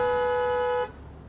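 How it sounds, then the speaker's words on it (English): A car horn honks at a gas station in New Braunfels, one steady loud blast of just under a second that cuts off abruptly, leaving quiet background. "After honking 3 times"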